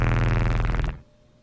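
A Sample Logic Tronix instrument patch played dry with no added effects: a dense, buzzy, harmonically thick tone held loudly for about a second, then cut off abruptly into near silence.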